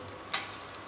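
Food shallow frying in a pan gives a faint, steady sizzle, broken by one short, brighter crackle near the start.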